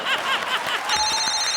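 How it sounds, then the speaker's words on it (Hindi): A telephone starts ringing partway through with a steady electronic tone, heard under laughter and a lively comedy-stage crowd. "एक मिनट फोन आ गया अपन को।"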